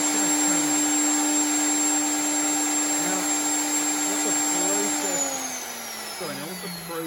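A router runs in a dovetail jig, a loud steady high-pitched whine close by that dips slightly in pitch near the end as it loads up, with someone talking over it.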